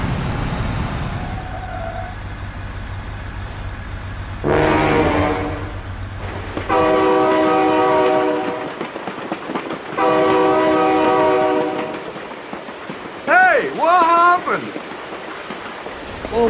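Blaring train horn blasts from a train passing in the BeamNG Drive video game, with loud sustained harmonic honks repeating over a rumbling background as an excited voice shouts over the scene.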